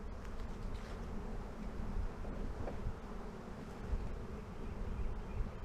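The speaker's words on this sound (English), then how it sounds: "but it definitely looks like a swarm, guys, happening." A honey bee swarm fills the air with a dense, steady buzzing hum that stays close and continuous, with faint wind rumbling underneath and no talking.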